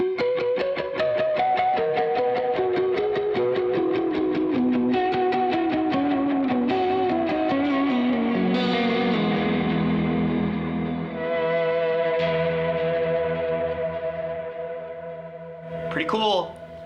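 An electric guitar runs through effects pedals, including an LVX, an H90 and chorus, with vibrato. Sustained notes and chords waver and glide downward, swelling and smearing with echo-like trails, loud and alone, ending in a brief squeal.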